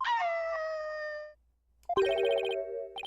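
Shah'do, a dog in the Ace Attorney game, gives a tonal, drawn-out electronic howl, then after a short pause a second, brighter yelping cry, sounding close and clean.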